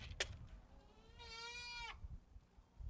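A goat gives one clear, wavering bleat up close during catching and ear-tagging before an auction, with rustling and shuffling around it.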